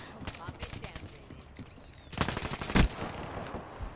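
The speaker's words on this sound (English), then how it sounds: "Gorgon doesn't shoot that fast" The Gorgon gun in the Black Ops 3 video game fires in a rapid, dense burst that swells loudly near the middle, amid ongoing in-game battle noise.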